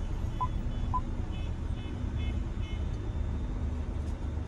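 A 2021 Geely Coolray SUV creeps slowly during automated self-parking, its low cabin hum steady while a series of short electronic parking-assist beeps chime in a regular rhythm.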